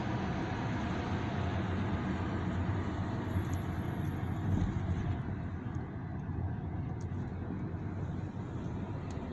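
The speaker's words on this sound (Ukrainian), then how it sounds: "Трамвай поїхав." A tram pulling away along a street in Spain, a broad low rumble that holds steady, with traffic and wind noise around it and no talking.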